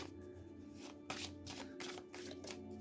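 Tarot or oracle cards being shuffled for a rune reading, a close run of crisp riffling bursts and soft slaps repeating in quick uneven rhythm with no voices.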